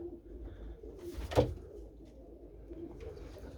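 Racing pigeons coo softly in an enclosed loft, with a low murmuring and a brief flutter or knock in the middle.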